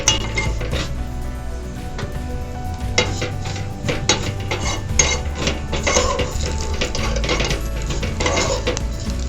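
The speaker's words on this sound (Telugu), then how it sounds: "ఇలా గోల్డెన్ బ్రౌన్ వచ్చేంత వరకు వేపుకోవాలి, మరీ ఎక్కువగా నల్లగా కానివ్వద్దండి" Semiya vermicelli fries in ghee in a pan and is stirred steadily, giving a constant sizzle under repeated scraping and clinking of a spoon against metal, close and fairly loud.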